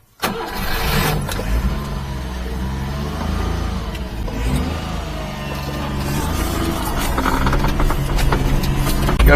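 A supercharged mini-truck engine cranks and fires up, then runs at a loud, close, steady idle with a low rumbling drone that slightly rises toward the end.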